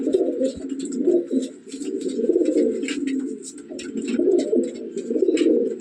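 Teddy pigeons coo continuously in a loft, a dense, close layer of low rolling coos rising and falling, with faint clicks and rustles above it and no talk.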